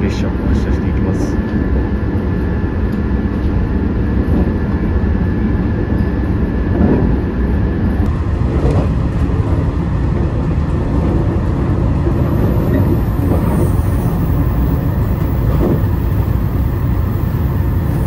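Electric train on the Fukuhoku Yutaka Line pulling out of a station on a service to Shimonoseki, a steady loud rolling rumble and motor drone throughout, with faint voices in the background.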